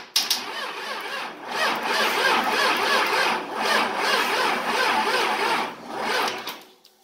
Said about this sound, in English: And you can hear the fuel pump running in the background.